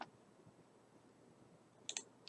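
A few sharp computer mouse clicks land near the end, a tight pair of quick taps, after one faint click at the start, over a quiet room hum with no talking.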